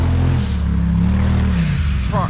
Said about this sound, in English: lots of race cars going around.